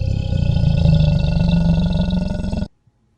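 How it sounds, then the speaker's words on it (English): An alligator call: a single sustained, deep, throaty bellow lasting under three seconds, loud and close, that cuts off abruptly into silence. "The animal that made that sound is an alligator."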